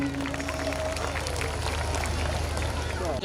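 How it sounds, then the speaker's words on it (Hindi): Audience at a school annual function clapping in a dense, fast patter that fills the hall, steady and fairly close, with a few voices mixed in and a faint tonal sound near the start. "जोरदार तालियां हो जानी चाहिए।"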